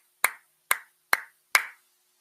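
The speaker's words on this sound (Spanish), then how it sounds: "Ok, aplauso." Four sharp hand claps spaced about half a second apart, crisp and close, ringing briefly in a quiet room during a church sermon.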